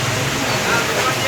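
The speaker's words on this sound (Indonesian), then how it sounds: "hujannya gede banget" A heavy rainstorm pours over Tanah Abang in central Jakarta as a dense, steady hiss and roar fills the air, with a voice briefly present over the downpour.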